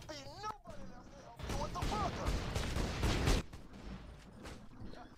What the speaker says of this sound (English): He's using mortars again.